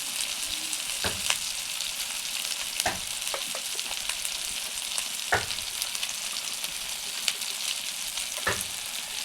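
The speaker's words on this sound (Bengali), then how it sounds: "এরপরে মশলাটিকে কিছুক্ষণ ভেজে নেবো যাতে মশলার কাঁচা গন্ধটি চলে যায়" Ground cumin and meat masala sizzle steadily in hot oil for a Bengali mutton curry with potatoes, a constant close frying hiss broken by occasional sharper spits and stirring scrapes.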